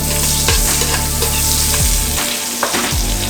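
Onion pieces frying loudly in a pan of curry for Jamaican curry cow foot, a steady dense sizzle and crackle with a few stirring scrapes, close up and with no talking.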